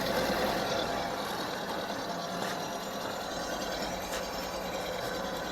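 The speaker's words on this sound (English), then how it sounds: "See, the power cross feed's working." A milling machine's power cross feed running while milling lift engine mounts gives a steady, continuous mechanical hum and whir at even loudness throughout, with no talk.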